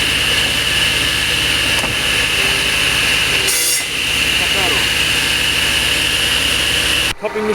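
A bat cupping machine runs steadily with a loud, continuous mechanical whine and grinding drone, close by, holding level throughout before a sudden shift near the end.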